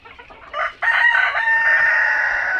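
Tiger breed chickens at a farm make a few close clucks, then a loud rooster crow rings out and holds for over a second.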